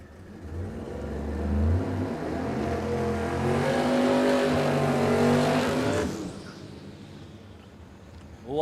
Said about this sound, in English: Always with the nice smoky burnouts is Brett Benz